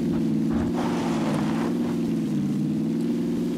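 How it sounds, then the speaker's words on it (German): A car drives in PUBG with a steady, droning engine hum that holds constant throughout, mixed with wind rush and no voices. "So, wir fahren mit dem Auto jetzt auf die mittlere Insel."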